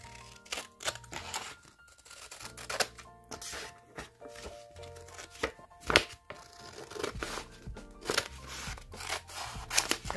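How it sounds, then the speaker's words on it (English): Scissors snip repeatedly through the sides of a bag for a journal cover, a close, quiet series of irregular crisp cuts mixed with crinkling material. "Then we're going to cut the sides off."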